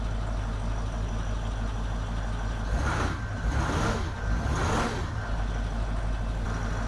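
Engine of a newly acquired project car idling after a first-time start, a steady close rumble that runs evenly throughout, with a few swelling surges midway and no talk over it.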